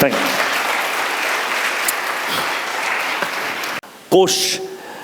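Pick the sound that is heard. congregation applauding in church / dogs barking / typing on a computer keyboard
congregation applauding in church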